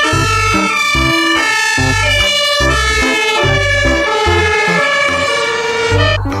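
A toy fire truck's electronic siren wails loudly and without a break for several seconds, a bright, tinny, harmonic tone rising and falling in a repeating pattern, close by and with no voices.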